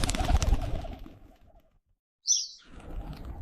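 Birds arrive at a homemade bird feeder, a short flutter and chirp after a moment of quiet, preceded by soft rustling noise.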